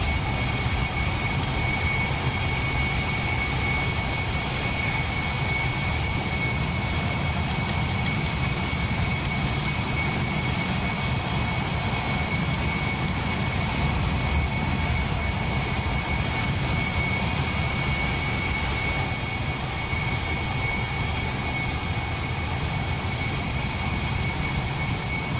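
Steady, unbroken whine and rumble of an F-100 Super Sabre's jet engine idling on the ground in the DCS flight simulator, with a constant high tone over a broad roar.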